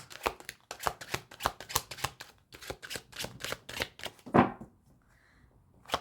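Tarot-style oracle cards are shuffled in a rapid run of crisp riffling bursts, close up, ending in a sharp snap and then quiet.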